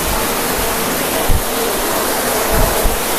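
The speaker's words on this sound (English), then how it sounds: "Waterfall. Waterfall." A steady, loud roar of a waterfall in Gupteshwor Cave, Kusma, Parbat, Nepal, fills the clip, with a few low thumps from wind or handling.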